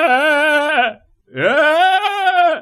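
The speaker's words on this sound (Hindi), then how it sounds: "अब ये बकरा या आदमी है ये कैसी आवाज है इसकी" An old hill goat bleats twice, loud and close: a long wavering call, a short pause, then a second rising, quavering bleat.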